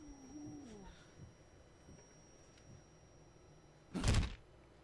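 A giant pushes a heavy door open in the video game Jade Empire, producing a single brief, fairly loud thud and scrape near the end, after a long stretch of faint ambience.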